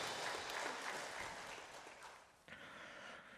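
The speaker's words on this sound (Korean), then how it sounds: "하나님 앞에 영광의 박수 올려드립니다" A congregation at a Sunday worship service in a Korean church applauds in praise, a soft, dense wash of clapping that dips briefly before picking up again.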